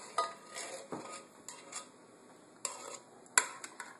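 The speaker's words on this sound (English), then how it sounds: "And mix it in there, get the cream blended with the curry paste." A spoon stirs coconut milk into red Thai curry paste in a crockpot, a double batch, giving soft, scattered scrapes and light clinks against the pot, quiet and close, with no talking.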